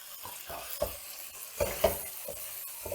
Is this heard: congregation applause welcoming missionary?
no